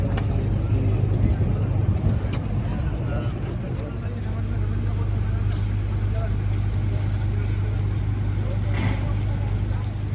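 A boat engine rumbles low and steady at Semayang harbour in Balikpapan, a continuous near drone with faint harbour bustle and background voices over it.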